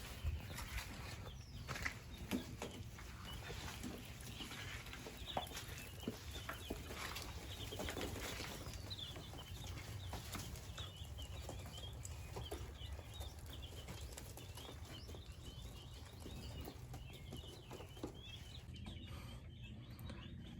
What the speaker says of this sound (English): So the pheasant chicks are about 5 weeks old now.